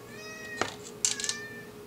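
A house cat meows twice, a short call followed by a longer, wavering meow, close and clear over a steady electrical hum from a workbench where an under-cabinet CD radio is being repaired.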